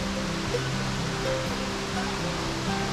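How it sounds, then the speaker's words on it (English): Roadside waterfall in Ohiopyle State Park, Pennsylvania, pouring as a steady, dense broadband rush with no pauses, close and fairly loud, with no voices. "Checking out this waterfall, it's pretty neat."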